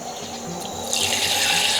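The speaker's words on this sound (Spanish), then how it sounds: "Vamos a poner 60 mililitros de agua." Tap water runs into a container to measure 60 millilitres for a homemade insect repellent, a steady splashing flow that grows louder and brighter partway through, with no voices.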